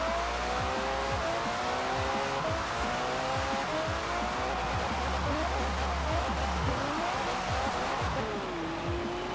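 A car sliding sideways on a snowy road, its engine note rising and falling in repeated sweeps while tires hiss and skid, steady and close throughout.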